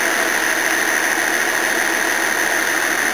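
A Toyota Cressida engine free revving off load with a bad noise, a loud steady mechanical drone and whine held throughout with no change in pitch or level, close up and alone.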